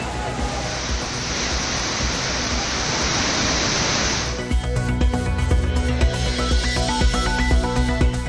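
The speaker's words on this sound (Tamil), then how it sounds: "ஒகேனக்கல் காவிரி ஆற்றில் வெள்ளப்பெருக்கு குறைந்தது." Hogenakkal waterfalls on the Cauvery river during a flood, a loud, dense roar of falling water heard close for about four seconds before it cuts to a different scene.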